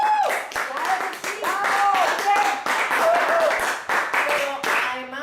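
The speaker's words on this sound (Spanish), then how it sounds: "aplausos," An audience breaks into applause, with steady rapid clapping from many hands mixed with voices and cheering.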